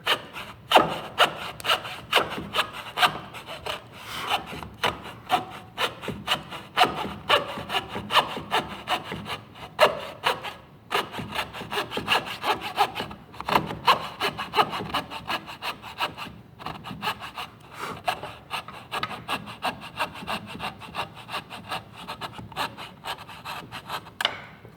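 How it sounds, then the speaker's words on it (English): A hand saw cuts through wooden crown molding in steady back-and-forth strokes, a dense rasping rhythm that runs close and continuous for the whole stretch with no talk. "I'm widening my kerf a little bit, trying to straighten up my saw a little bit so I'm not undercutting quite as much as I come around that corner."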